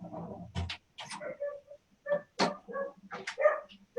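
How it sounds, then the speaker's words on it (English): A dog barks in a series of sharp yips and woofs, close and fairly loud, with short pauses between bursts in a quiet indoor room. "Interrupted by the dog."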